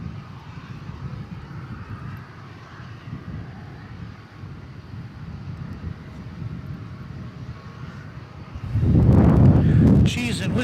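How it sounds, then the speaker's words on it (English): UPS Boeing 757 landing at DFW Airport at night, a distant low jet rumble that swells into louder roaring near the end, under steady wind noise and someone talking throughout. "UPS Flight 893 from Phoenix come in. That's another 757."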